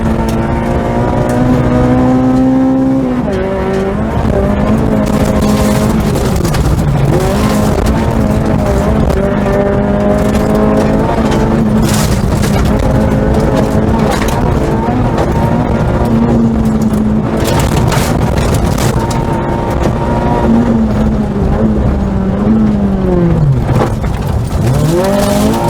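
Rally car driven hard, engine roaring loud and close from inside, revving up and down through gear changes with rising and falling pitch, steady throughout the run.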